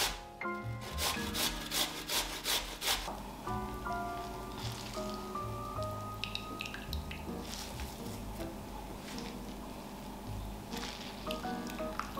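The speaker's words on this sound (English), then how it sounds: "I'll first grate the aubergine and also the potato" Fresh garden aubergine and potato being grated by hand, heard as a quick series of loud rasping strokes at the start and then softer, irregular scraping and dripping juice, close up with no talking.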